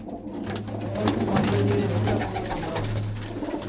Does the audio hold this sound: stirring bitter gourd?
no